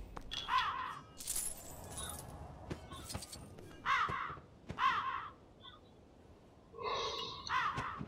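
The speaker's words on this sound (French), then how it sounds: "Ah, ici on a un oiseau à sauver, un corbeau." A crow in the LEGO The Hobbit video game caws in short raspy bursts, several calls spread across the scene amid soft breathy game effects and faint clatter.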